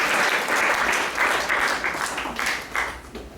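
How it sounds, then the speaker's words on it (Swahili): A church congregation claps for the Lord, a dense, loud burst of applause that swells in rhythmic waves and fades toward the end. "Piga Bwana makofi."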